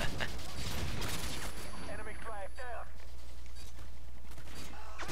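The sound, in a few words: gunfire in Modern Warfare 2 video game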